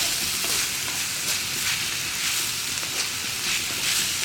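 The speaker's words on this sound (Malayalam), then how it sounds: "ഇതൊന്ന് ഒരു 2 മിനിറ്റ് ഒന്ന് വഴറ്റിയെടുക്കുക" Potato stew cooking in a pan, being sautéed for a couple of minutes, gives a steady close sizzle and frying hiss with soft stirring scrapes throughout, alone with no voices.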